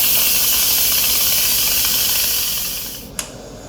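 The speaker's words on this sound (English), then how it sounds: "I'm just gonna hit the release valve just to get rid of all the extra pressure." An Instant Pot's pressure release valve vents steam in a loud, steady hiss that tapers off toward the end, closing with a brief click.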